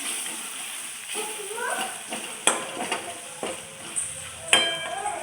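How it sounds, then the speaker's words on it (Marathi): Spices frying in a hot oil tempering, a soft sizzle punctuated by clinks and scrapes of a spoon against the pan, close and fairly quiet, with a faint voice in the background. "ते जे टाकलं ते आपण नीट फ्राय करून घ्यायचं"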